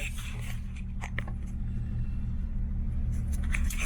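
A Datsun 240Z with an L28 engine drives along, giving a low, steady engine rumble with road noise and a few faint clicks and knocks, heard close from inside the car with no talk.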